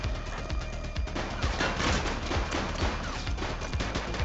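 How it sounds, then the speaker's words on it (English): Gunshots in the video game Precinct, set in the 1980s: rapid, dense bursts of gunfire in a continuous volley, loud and punchy over a busy background for several seconds. "Shots fired!"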